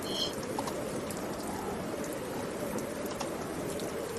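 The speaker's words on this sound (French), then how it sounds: "Le vent et la pluie, vraiment, là, vous êtes dans une tempête" Steady wind-and-rain storm ambience at night, a dense continuous wash of rain hiss and gusting air with no clear breaks, moderately quiet and alone without voices.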